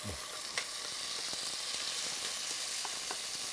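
Kimchi fries in a small amount of cooking oil over medium-high heat, giving a steady hissing sizzle with a few faint scraping stirs, close and even throughout, with no speech.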